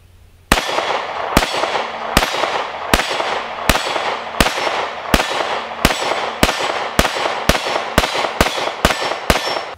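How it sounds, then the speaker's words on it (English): A Sphinx SDP Compact 9mm pistol fires at steel plates: about fifteen loud, sharp shots in an even, unhurried rhythm, each a crisp crack with a brief ringing tail. "I'm going to just go and shoot a few rounds at some steel plates"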